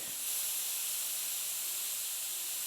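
A compressed-air spray gun set to about 30 psi hisses steadily as it sprays cleaner onto a very dirty engine, a continuous bright, close hiss with no talk.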